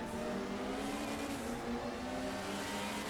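A Group 5 BMW 320 race car in the RaceRoom sim racing game, on the grid at Hockenheim: a continuous, loud engine drone with a steady, buzzing harmonic tone that holds throughout.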